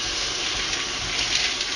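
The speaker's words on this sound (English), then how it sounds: "Now I'm going to let them water run in there just a little bit." Tap water runs into a pot of pinto beans, a steady close splashing gush that stays even and fairly loud throughout, with no talk over it.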